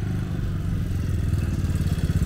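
A Honda Fan 160 motorcycle fitted with a 205cc kit engine revs loudly up close. Its pulsing exhaust grows stronger and more rhythmic toward the end, and no one speaks.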